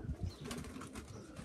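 Young pigeons flying out in a quick burst of flapping wings, fairly soft and a little distant, with faint outdoor ambience and no talking.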